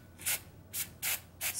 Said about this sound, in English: spray it a couple times with hairspray, and then dip your nail